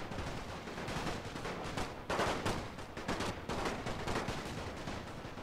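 Gunfire in The Great War, a World War I strategy game, with Russian Empire troops firing against Italian conscripts: dense, overlapping rifle and machine gun shots crackle steadily at mid distance, with heavier bursts swelling midway.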